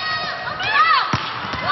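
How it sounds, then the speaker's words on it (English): FEU fans cheer in the stands at a college volleyball match against Ateneo, a steady crowd roar with whistles and shouts rising and falling, plus a couple of sharp thumps of play. "The fans of FEU behind us have come alive now, cheering on the best setter of the league"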